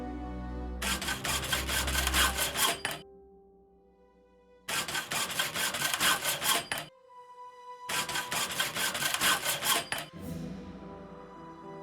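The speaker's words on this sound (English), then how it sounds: "I could saw through the bars, being careful to create a passage wide enough." Sawing through solid iron window bars in a Sherlock Holmes video game, heard as three separate bursts of steady back-and-forth rasping, each lasting a couple of seconds, with quiet pauses between them.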